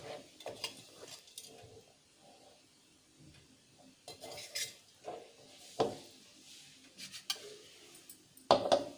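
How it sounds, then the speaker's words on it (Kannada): Betel nut powder is tipped from a mixer jar into a bowl, with scattered light clinks, scrapes and taps of spoon and metal, quiet between the sharper knocks. "ಬೌಲ್ಗೆ ಹಾಕ್ತಾಯಿದ್ದೀನಿ"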